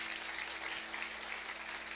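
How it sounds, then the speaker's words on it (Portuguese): Faint, distant applause from a Pentecostal church congregation, a continuous even patter of many hands with no clear individual claps. "uma salva de palmas para ele"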